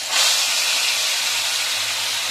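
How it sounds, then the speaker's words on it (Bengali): Blended masala paste hits hot oil with bay leaves and cinnamon for prawn malai curry, bursting into a loud close steamy hiss that settles into a steady sizzle. "ব্লেন্ড করা মশলাটাকে এবারে মশলাটাকে ভালো মতো ভেজে নিব"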